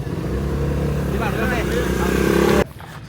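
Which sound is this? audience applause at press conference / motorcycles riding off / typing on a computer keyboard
motorcycles riding off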